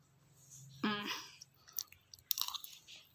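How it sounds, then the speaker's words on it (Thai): Close, crunchy chewing and biting of a spicy Thai yum salad topped with fried mussels, with a few brief mouth and voice sounds mixed in. "เดี๋ยวกินให้ดูนะ"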